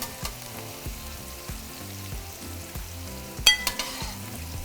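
Steak, jalapeños and onions sizzle and fry steadily in a pan for tacos dorados, with background music, a few sharp utensil clinks near the end, and no talking.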